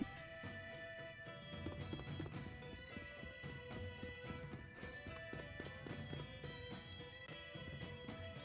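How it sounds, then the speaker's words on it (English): Video game horse hooves clip-clopping in a quick galloping rhythm, with music and chimes layered over the steady beat, fairly close and continuous. "That's my horse."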